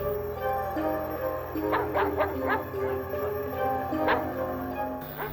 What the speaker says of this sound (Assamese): সেই অহা বাটেৰেই শিয়ালৰ শব্দ কুকুৰৰ শব্দ শুনি ভয়ে ভয়ে সিহঁতে ঘৰমুৱা হৈ